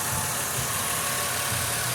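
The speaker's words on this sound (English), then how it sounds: "The engine is fairly clean, runs quiet, smoothly." A car engine idles quietly and smoothly, giving a steady low hum with no voices, a constant close drone.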